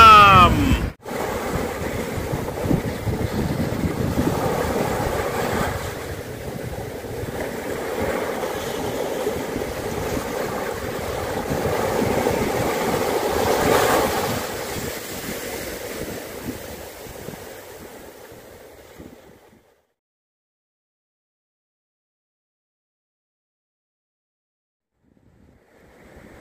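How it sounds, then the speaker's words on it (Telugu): Ocean surf breaking at Edakkad Beach in Kannur, Kerala, a steady wash of waves with some wind noise for about twenty seconds, then silence. "కన్నూరులో నెక్స్ట్ ఇడక్కాడ్ బీచ్ చూద్దాం"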